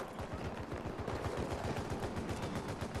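Rapid automatic gunfire rattles in a fast continuous burst in a video game match, loud and dense throughout with no talk over it.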